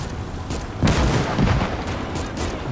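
A tank cannon fires in the Gates of Hell World War II strategy game: one heavy boom lands early, followed by a rumbling tail and scattered distant battle noise.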